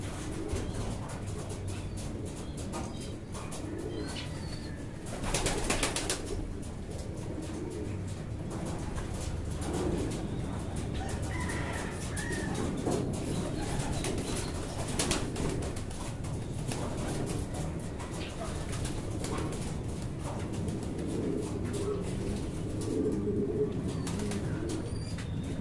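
Racing pigeons coo softly in a loft, low repeated throaty calls over a steady background, with occasional wing flaps and brief rustles, no speech.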